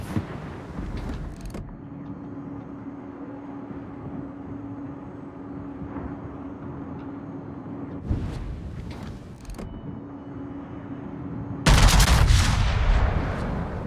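Naval gunfire in the World of Warships video game, a few heavy booming shots with a sustained low engine hum beneath, ending in a loud rumbling blast.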